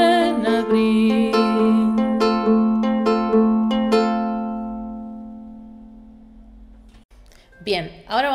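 Ukulele strummed in a carnavalito (huayno) rhythm, playing a song's chords: several bright, ringing strums over four seconds that then decay into a long fading chord, with a voice briefly speaking at the end.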